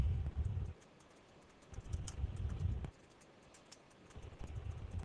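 Keys tapped on a computer keyboard while entering a group name in contact management software, coming in quiet bursts of clicks separated by short pauses.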